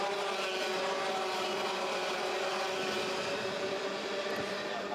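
Rotax junior karts race around a 1.58 km circuit at the Campillos Wintercup, their engines a continuous buzzing drone with a faint commentary voice underneath.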